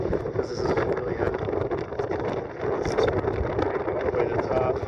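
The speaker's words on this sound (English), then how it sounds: "It's really windy and cold" Strong, cold wind on a mountain along the Appalachian Trail buffets the microphone in a steady, rough rush, with a faint voice underneath.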